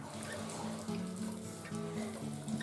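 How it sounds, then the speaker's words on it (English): Water runs from a tap into a container while making hawthorn fruit leather, a steady close rushing flow with shifting pitch as it fills, with no talking. "So I'm going to put some more water in there now."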